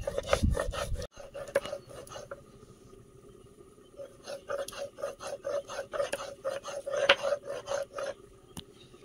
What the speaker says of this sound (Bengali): মরিচটা বেটে নেব।